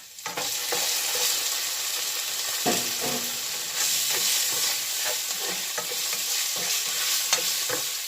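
Beef sautés in a hot pan for beef chowfan fried rice, a loud continuous sizzle broken by frequent clacks of a spatula stirring and scraping, close up and with no voices.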